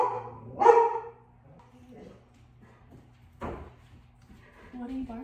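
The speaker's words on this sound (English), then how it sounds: "What are you barking at?" A single sharp dog bark up close near the start, followed by quieter background noise and a brief human murmur.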